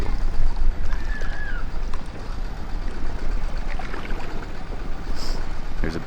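A boat moves across the water off an island in Cambodia, giving a steady, noisy rumble throughout. Wind buffets the microphone, and a brief whine rises near the start.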